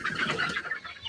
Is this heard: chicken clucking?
yes